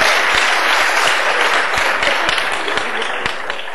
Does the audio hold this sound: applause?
yes